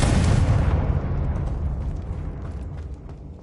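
Confringo fire spell in Hogwarts Legacy: one loud, near blast that hits at once, then fades into a rumbling decay over a few seconds.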